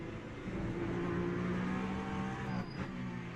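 A Ferrari race car in Le Mans Ultimate at the COTA circuit, its engine droning steadily at high revs with a brief shift in pitch near the end, loud and close, with no talk over it.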